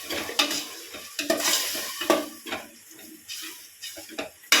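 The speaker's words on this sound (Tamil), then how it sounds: "சேர்த்து நல்லா கிண்டி விடும்." A spoon scrapes and clacks against a pot as tomato-cashew paste is stirred into chicken biryani masala, with repeated irregular scrapes and a faint sizzle beneath, close and moderately loud.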